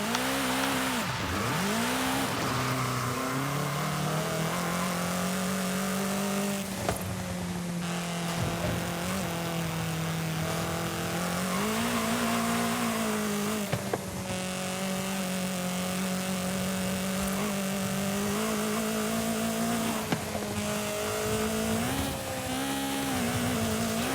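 A car in Forza Horizon 5 drives and revs steadily at close range, its engine note rising and falling with throttle across the whole stretch, with no talk over it.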